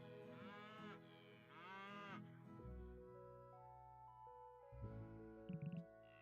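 Two long moos sound one after another from cows at a farm in the video game Potion Permit, set over looping game music with a few soft sheep-like bleats and other livestock calls afterwards.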